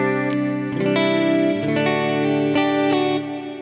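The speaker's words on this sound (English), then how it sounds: "let me show you that reverb that I was talking about earlier. It's called Sweet Space." Guitar played through the Valeton GP-5 Sweet Space reverb: sustained, layered chords with a few picked notes on top, washed in a long shimmering tail that rings on steadily.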